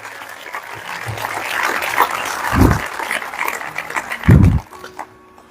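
Congregation applauding at a church service, a steady wash of hand clapping throughout with a few heavy low thumps partway through, fading near the end.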